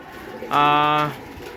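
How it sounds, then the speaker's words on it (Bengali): A pigeon at a rooftop pigeon farm and garden gives one loud, close coo lasting about half a second, rising out of quiet background hiss. "দেখতে পাচ্ছেন পাশে কবুতর আছে"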